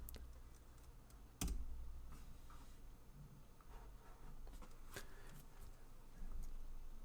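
Computer keyboard typing in a terminal, a run of light clicking keystrokes with a few sharper taps, quiet and close, without speech.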